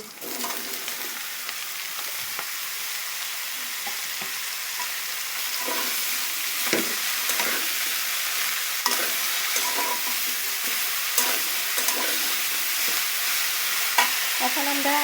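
Cut eggplant frying in a pan with lightly browned onions for a garlic-free eggplant curry, a steady close sizzle broken by repeated scrapes and clacks of stirring throughout, no voices.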